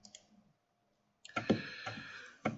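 Sharp mouse clicks in CAM software: a pair of quiet clicks, a pause, then a cluster of crisper clicks and a final distinct click, close and dry with no talking.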